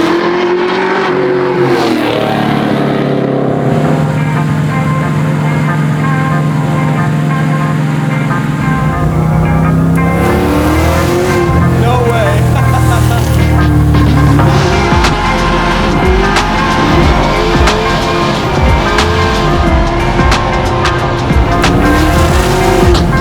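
A 700 hp supercharged LSA-powered Chevy Nova sleeper accelerates hard, its engine rising in pitch through gears with a loud, raspy exhaust roar and supercharger whine, heard close and continuous.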